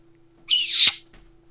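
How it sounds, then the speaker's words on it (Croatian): A parrot lets out a single loud, harsh squawk lasting about half a second, close to the microphone, over a faint steady background hum, with a brief soft rustle just after. "Nije vrabac nego papagaj."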